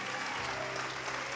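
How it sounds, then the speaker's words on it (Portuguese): Church congregation applauding for Jesus during a revival service, a steady, even wash of many hands clapping at moderate distance, continuous and unbroken throughout. "Vamos aplaudir ao Senhor Jesus"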